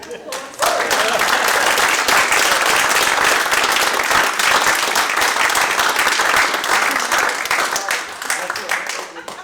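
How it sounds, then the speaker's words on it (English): A large audience at a live seminar event breaks into loud, sustained applause that starts abruptly and continues steadily for several seconds, with crowd voices mixed into the clapping. "Can we have a round of applause?"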